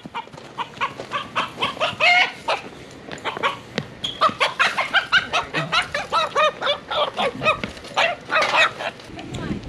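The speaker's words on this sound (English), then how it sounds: "first step is to catch all the chickens" Farm-raised chickens squawk and cluck in rapid, agitated bursts while being caught, a dense run of loud, close calls packed together with barely a pause between them.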